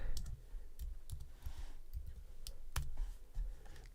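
Someone types a chat message on a computer keyboard at a desk, a quiet, uneven run of close key clicks with short pauses between bursts.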